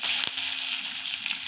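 Mustard seeds and curry leaves sautéing in hot oil for murmura chivda, a dense close crackling sizzle with one sharp pop near the start, steady and loud, no voices.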